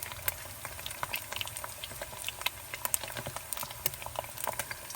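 An egg fries in hot oil for a crispy pork basil stir-fry, a steady bubbling crackle with rapid small pops spattering close by throughout.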